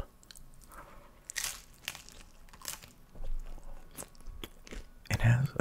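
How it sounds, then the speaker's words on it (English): A Taco Bell Volcano taco, with lettuce and cheesy Volcano sauce, is bitten and chewed up close, giving a few sharp crunchy bites followed by quieter irregular chewing and mouth sounds. "Today we're going to be eating the Volcano Combo from Taco Bell."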